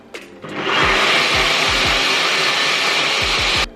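A kitchen machine whirs loudly and steadily while mixing vegan Nutella ingredients, with a few clicks at the start and repeated low thumps as the mixture churns.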